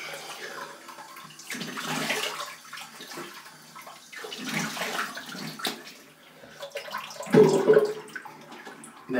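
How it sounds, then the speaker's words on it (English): Running tap water splashes irregularly up close as a face is rinsed partway through a wet shave, steady flow broken by uneven splashes and handfuls of water. "Okay, let me just rinse off a little bit."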